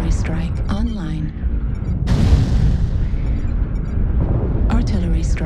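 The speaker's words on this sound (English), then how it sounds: "Artillery strike activated." Artillery strike explosions from a video game boom one after another. Heavy low rumbles sit under an automated voice and whooshing game effects, with one sharp blast near the middle.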